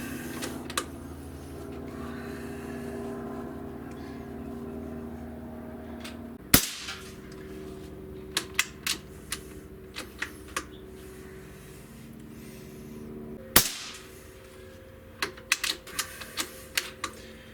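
An Umarex Gauntlet PCP air rifle (.22/.25 caliber) is fired twice outdoors. Each shot is a sharp, loud crack, with lighter mechanical clicks from handling and cocking scattered between the shots.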